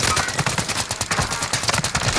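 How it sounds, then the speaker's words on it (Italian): Gunfire in the video game Call of Duty: Modern Warfare crackles as a dense, rapid burst of machine-gun shots filling the moment, loud and continuous without pause. "Voglio capire dove sparano."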